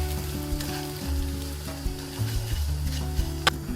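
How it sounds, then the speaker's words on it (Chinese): Mud crab stir-frying in a wok over moderate heat, a steady loud sizzle with rumbling scrapes and a few sharp clinks of the utensil against the pan, no talk. "面包蟹下锅之后火要稍微小一点，就耐心把它炒到那种金黄的颜色。"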